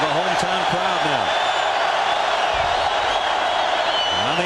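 Deafening hometown crowd at a college football game between Oklahoma and Nebraska, a steady wall of roaring noise at full volume that holds without letup, with a commentator talking over it.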